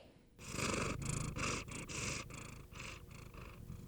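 A cat purring close up, a loud rumbling purr in rhythmic pulses with each breath, no talking.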